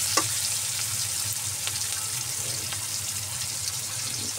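Onions sizzle steadily in a hot pan for sayote in coconut milk, a dense, even crackle of frying that holds at the same close, moderate level from start to finish, with no voices.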